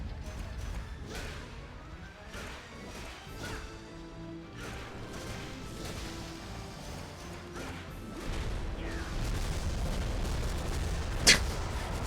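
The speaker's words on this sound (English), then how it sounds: "Alright, just 50 explosion sounds at the same time." Dense barrage of overlapping explosions and crashing impacts in Castlevania: Lament of Innocence, a continuous loud roar of blasts with occasional sharper hits and a bright burst near the end, no talking.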